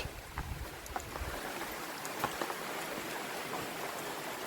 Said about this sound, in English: Let's have a little seat here while the rain passes.